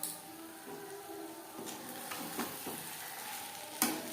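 Stirring in a frying pan as fish oil and egg cook into a Bengali chorchori with spices: steady soft sizzle with scattered scraping strokes and a sharp clink of the spatula near the end, no talking.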